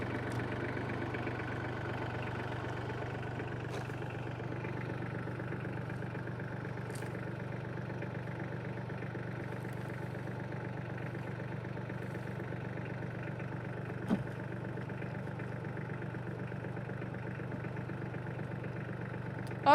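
A tractor engine runs steadily in a forest in Portugal, a constant low idling drone at moderate distance with only slight variation and no speech.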